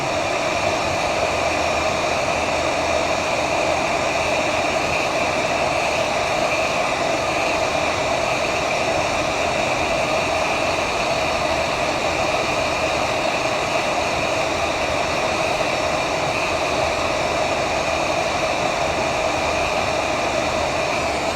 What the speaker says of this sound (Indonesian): Kita panasi prosesornya di temperatur blowernya 350, anginnya maksimal.